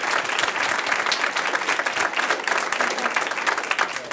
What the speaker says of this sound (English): Ann Goad, let's give a round of applause for Ann.